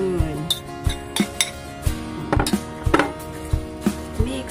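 Vegetables mixed into dumpling filling in a bowl, with a utensil scraping and clinking against the dish in irregular strokes, close and fairly loud.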